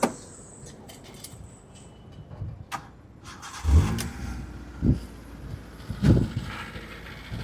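A Hyundai Santro car engine idles with a low rumble, punctuated by a few heavier revs and thumps, close by.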